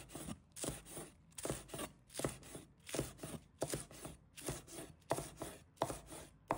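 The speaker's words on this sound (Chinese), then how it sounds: "把它切成葱花。" Green onion leaves chopped with a knife on a board, a quick regular run of crisp chops in short bursts with brief pauses, close and clear with no talk.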